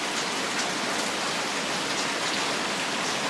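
Steady rain pouring down, a dense continuous hiss of drops with no pauses, fairly loud and close.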